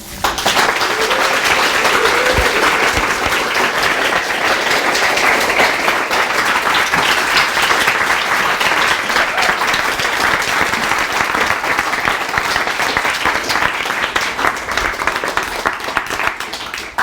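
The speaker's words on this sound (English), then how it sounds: "Let's give them one more round of applause" An audience at a poetry reading gives steady, sustained applause, a dense wash of many hands clapping that holds loud and even from start to finish.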